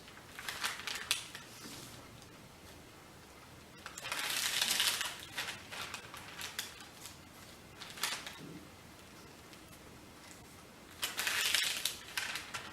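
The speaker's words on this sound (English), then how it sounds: "hold here, and now just swivel the paper" Crisp rustling and crinkling of a paper sheet being swivelled and folded for an origami dobsonfly, coming in several short close bursts separated by quiet pauses.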